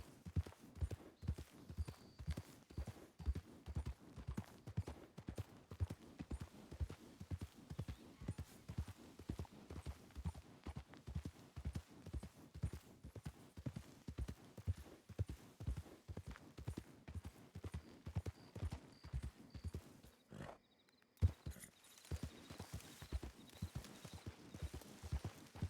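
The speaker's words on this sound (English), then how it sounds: "This isn't even my horse. We stole this horse." Hooves clip-clop in a steady trotting rhythm as a stolen horse is ridden in the WildRP game, clear and even throughout, briefly dropping out near the end before resuming.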